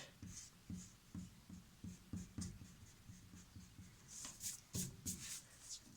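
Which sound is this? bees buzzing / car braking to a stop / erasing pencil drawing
erasing pencil drawing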